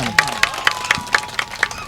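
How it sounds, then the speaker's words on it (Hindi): Audience at a Hindi comedy poetry gathering (hasya kavi sammelan) claps in steady unison, about four sharp beats a second, close and bright, with a faint voice underneath. "तो भोजपुरी के सम्मान में एक बार ताली बजाइए।"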